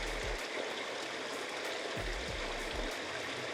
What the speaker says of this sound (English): But the one thing about here, it's the water feature. So you can just sit here, chill, and just listen to that.